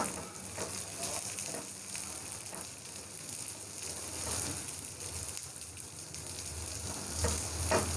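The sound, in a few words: onions and garlic frying in a pan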